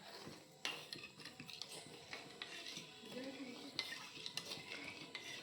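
A spoon stirs sugar into milk, faint scraping and clinking against the pot in an uneven rhythm, with quiet speech in the background.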